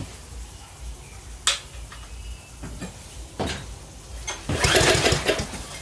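A trashed MasterCraft Lawn Chief tiller with a Briggs 190cc OHV engine is cranked for a restart: a few sharp clatters and pulls, then a short loud sputtering burst near the end over a low background hum.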